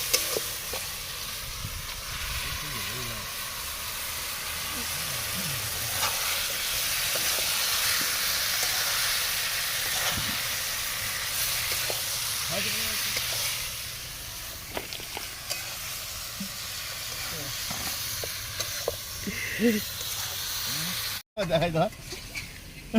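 Chicken pieces frying in hot oil give a loud continuous sizzle and hiss, easing slightly partway through, with stirring scrapes and someone talking over it.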